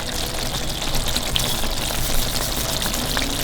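Chicken handi masala with garam masala, black pepper and kasuri methi frying in a pan, a steady close sizzle and crackle with no breaks.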